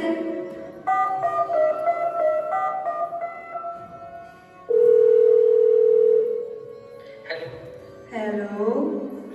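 A telephone dial tone holds steady for a few seconds while someone calls their son on the phone. Other tones and sounds come before and after it, with some voices.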